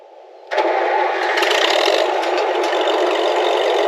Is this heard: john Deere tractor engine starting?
yes